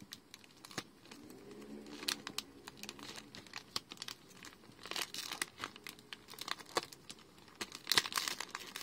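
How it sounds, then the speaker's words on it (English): Crinkling and tearing of a plastic bag sealed with sticky double-sided tape, a run of close, fairly quiet crackles and rips that come in bursts over several seconds. "Oh, that was a chore to open the bag."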